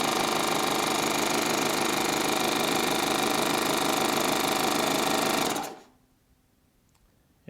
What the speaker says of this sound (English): turn on the air compressor in the machine